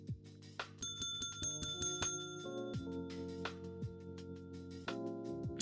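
Bell chimes in a video game while a new base is being set up, several bright rings in quick succession with sustained tones, close and clear without talk.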